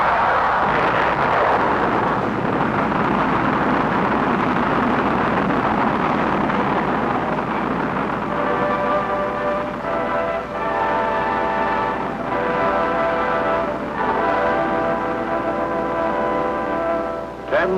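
A rocket engine fires at a launch at Cape Canaveral on January 31, 1958, a loud, sustained roar with a deep rumbling low end and some tonal drone, heard without speech.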